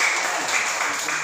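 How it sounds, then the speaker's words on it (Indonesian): A classroom breaks into applause for a student group, a short burst of dense, busy clapping from many hands that stays evenly loud throughout. "Tepuk tangan dulu buat kelompok."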